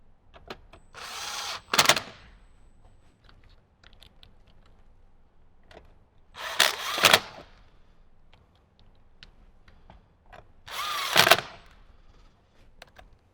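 Power drill driving screws into a side panel of an '18–'23 Jeep JL during a speaker install, three short whirring bursts several seconds apart, close, with light handling clicks between.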